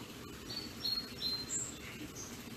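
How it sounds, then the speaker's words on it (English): A few faint, high chirps from a bird somewhere in the distance, scattered over a quiet outdoor background hiss. "there's a bird chirping"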